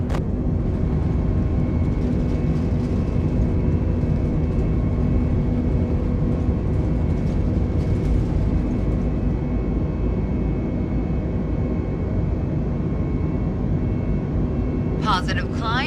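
Airliner jet engines spool up and roar steadily through a takeoff roll in Microsoft Flight Simulator, a continuous loud broadband rumble under a speaking voice that runs throughout.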